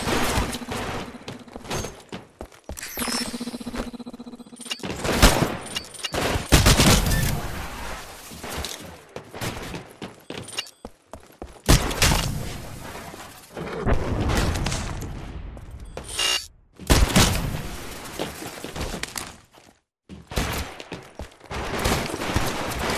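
Live-fire training in the video game Titanfall: repeated bursts of gunfire and impacts come in uneven clusters with short gaps, loud and close, continuing throughout.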